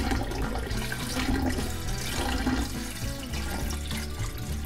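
Water pours steadily into a large vase for a second filling, a continuous splashing, gurgling stream heard up close with no talking.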